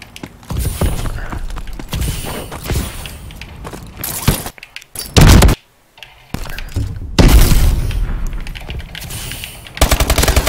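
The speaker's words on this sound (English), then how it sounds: "Your gun sounds like you got rapid fire or something." Rapid automatic gunfire from Call of Duty Advanced Warfare in bursts of dense, loud rattling shots, with a brief silent gap in the middle and mechanical clacks between volleys.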